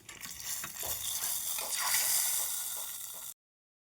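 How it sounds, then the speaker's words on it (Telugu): Hot tempering is poured into sesame pachhi pulusu, giving a loud, close burst of sizzling hiss that holds steady for about three seconds and then cuts off abruptly. "ఈ తాలింపుని ఇందులో వేసుకో."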